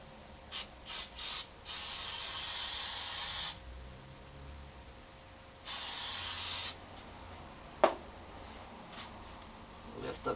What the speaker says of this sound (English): I'm going to spray the back of the top panel with glue.